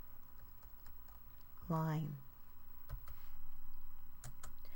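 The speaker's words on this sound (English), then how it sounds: "when I type, I should keep typing and get to the next line" A few quiet computer keyboard clicks and taps sit beneath a teacher-like voice speaking, with a brief tonal blip in the middle.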